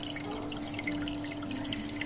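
Small aquarium pump recirculating tank water up and back down through a sponge filter, a steady close trickle and drip of falling water with a faint constant hum underneath, no voices.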